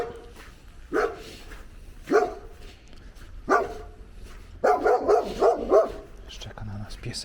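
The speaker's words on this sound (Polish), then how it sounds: "Czeka na nas piesek." A dog barks in a series of sharp, fairly close woofs, one roughly every second and then a quicker burst, with a brief human voice near the end.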